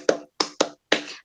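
Four crisp hand claps close by, spaced unevenly with two quick ones in the middle, each short and sharp with no talk over them.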